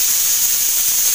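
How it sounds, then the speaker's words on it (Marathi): A pressure cooker on a gas stove releasing steam with a loud, steady hiss, close by and with no other sound. "कुकर ठेवला ना गॅसवर, तिच्या शिट्टी मध्ये मध्ये वाजते."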